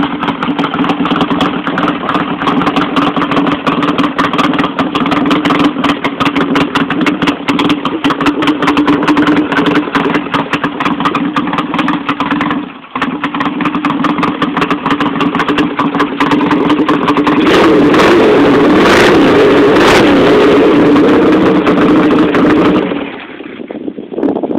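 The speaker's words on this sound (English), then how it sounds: "I've got upswept cocktail shaker mufflers on here with the baffles in" A motorcycle fitted with upswept cocktail shaker mufflers, baffles in, idles with a loud, steady, lumpy exhaust rumble, briefly dipping once and blipping higher near the end before cutting off.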